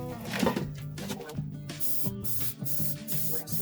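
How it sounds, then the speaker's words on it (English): Vegetable oil cooking spray misted over muffin cups in a kitchen while making pizza puffs, giving steady close hissing bursts with brief pauses between cups. "gonna spray each of the cups really well."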